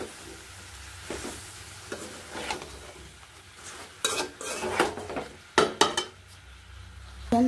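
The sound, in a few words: eggplant being added and stirred in a frying pan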